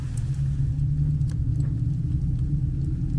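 An electric blower fan running on a wood stove in a rural setting, a steady low humming drone with a faint whooshing airflow, continuous and moderately quiet.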